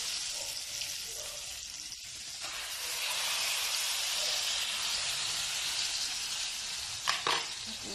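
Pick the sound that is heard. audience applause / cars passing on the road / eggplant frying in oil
eggplant frying in oil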